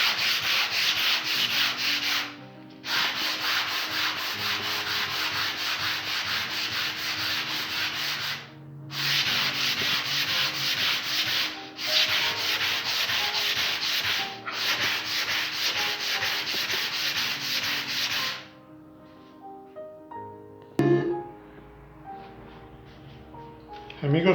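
A wooden puzzle piece for a devil's knot puzzle is sanded square by hand in long, steady rubbing runs close to the microphone. Short pauses break the runs, and a few light knocks and handling sounds follow at the end.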